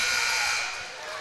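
A loud, sustained electronic buzzer marks the end of a quarter at a high school basketball game between Emmetsburg and Okoboji, ringing through the gym and fading slightly toward the end.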